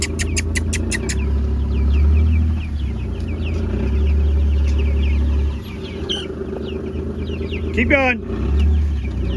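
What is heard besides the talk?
chickens clucking in a moving range coop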